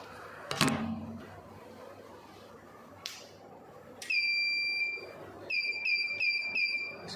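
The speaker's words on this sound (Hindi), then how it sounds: "इसको जब हम लगाते हैं तो 3 बार आवाज़ आती है अंदर से, जो अंदर इसमें बजर लगा है" A solar inverter's internal buzzer sounds as the unit is connected, giving a short high beep and then a quick series of sharp electronic chirps after a clunk and handling noise, close and fairly faint.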